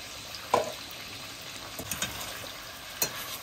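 Chicken fries in oil in a karahi, a soft steady sizzle with a few sharper spatters and stirring clinks scattered through, close and moderately quiet with no talk.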